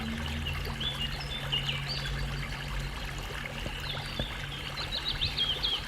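Birdsong chirps over a steady stream of flowing water, a soft, continuous ambience with scattered calls throughout and no voices.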